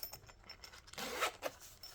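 A standard zipper pouch with felt lining, holding a 704Gear Trailblazer pocket knife, gets unzipped in one short, close rasping pull of about half a second, with faint handling rustles and taps before and after it.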